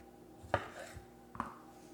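Knife chopping tomatoes in a home kitchen: two distinct, separate cuts against a board, quiet and close with a faint room background.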